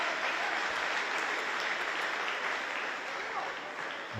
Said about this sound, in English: Applause from those inside the Select Car Leasing Stadium today